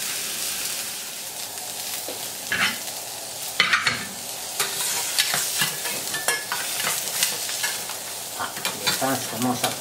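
Lobster cooks in a hot pan with pastis, a loud continuous sizzle broken by repeated stirring and scraping bursts and sharp spits, close and alone.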